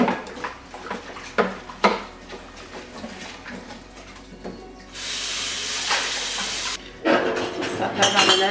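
Dishes clatter and knock with sharp intermittent clinks as they are loaded into a kitchen dishwasher, then a few seconds of rushing water spray before more clanks.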